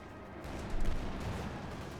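Battle gunfire rumbles in the Company of Heroes 2 strategy game, with a dense, steady wash of distant firing and explosions that swells briefly partway through.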